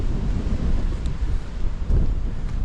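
Wind buffets across an open, cold fell in the Northern Pennines, roaring in gusty low rushes against the microphone with no voices.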